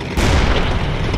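A tank cannon shot with an explosion from the Panzer Knights video game, a single loud boom with a sharp onset and a long, rumbling low-end tail.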